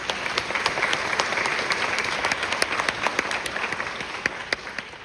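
Sustained applause from an audience at a scholarship awards ceremony honoring student winners, steady clapping with a few sharper individual claps standing out, moderately loud throughout.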